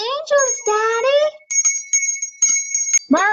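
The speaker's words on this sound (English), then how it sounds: "Why did you take the bell off the tree, Zuzu?" A small bell taken from a Christmas tree jingles in a few short bright rings, close by, between and after lively child and adult speech.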